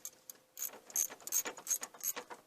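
Ratchet wrench tightening the thermostat housing bolts on a Jeep Cherokee XJ: quick bursts of close, crisp clicking that stop and start in short runs, with no talking.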